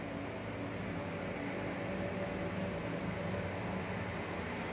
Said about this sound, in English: I also apologize for the lawnmower that you hear.